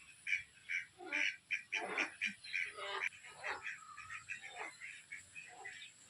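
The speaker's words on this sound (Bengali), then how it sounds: "সারাদিন থাকার পর দেখো বিকেলবেলা সবগুলো হাঁস বাসায় চলে আসতেছে" Ducks in a rural homestead yard quack repeatedly in the late afternoon as they head back to their shelter, with close, choppy bursts in an uneven rhythm and a voice briefly present.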